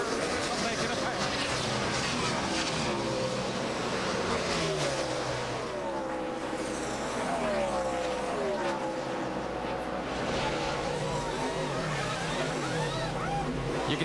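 NASCAR stock cars thunder around the track at the 2010 Brickyard 400, engines rising and falling as cars sweep past in overlapping waves beneath broadcast commentary and crowd noise.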